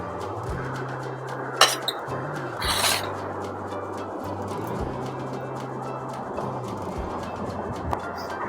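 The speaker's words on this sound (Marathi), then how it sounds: "यामध्ये आता अगदी बारीक केळाचा तुकडा मी मिक्स करते." Finely chopped banana being worked into anarsa dough, a soft, steady rubbing and scraping in a bowl broken by a couple of sharp clinks, close and fairly quiet over a constant low hum, with no talk.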